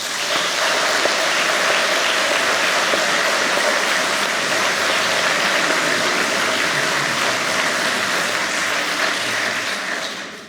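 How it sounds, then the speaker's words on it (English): An audience gives a round of applause at a talk, a loud, continuous wash of clapping that stays steady throughout and blends into a dense roar, with no talking over it. "So I think they deserve a round of applause."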